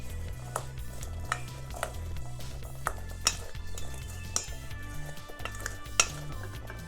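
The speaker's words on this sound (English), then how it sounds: "go ahead and put them in a bowl and mix them up with about a tablespoon of olive oil" Chickpeas tossed with olive oil in a bowl, giving a steady run of soft stirring scrapes and light clinks of a utensil against the bowl, close and fairly quiet, with no voices.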